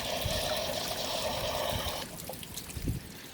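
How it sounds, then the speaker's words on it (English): Coolant pouring steadily out of an engine core plug hole, a continuous splashing trickle that thins and turns to scattered drips after a couple of seconds. "lovely clean coolant coming out there"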